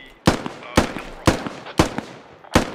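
Gunfire in the military shooter Squad: five sharp, loud shots spaced about half a second apart, each with a short echoing tail, and no talk over them.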